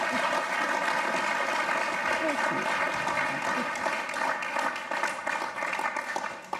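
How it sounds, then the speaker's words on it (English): Applause from the audience at a lecture on energy transformation, a fairly brief round of clapping with a voice briefly speaking over it before it fades. "Let's give you a quick round of applause"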